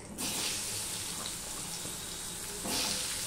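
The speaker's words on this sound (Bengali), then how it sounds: "এবারে যে চাল কুমড়োগুলো আছে সেগুলো আমি ভেজে নেব।" Ash gourd pieces frying in a pan for a vegetarian Bengali dish, a steady broadband sizzle that runs through the whole clip and swells briefly louder near the end, with no talking.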